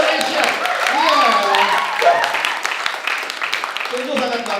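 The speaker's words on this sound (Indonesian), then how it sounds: "Tepuk tangan dong, buat Indonesia" Audience clapping at a live stand-up performance in Berlin, with a voice speaking over the applause through most of it before the clapping thins out toward the end.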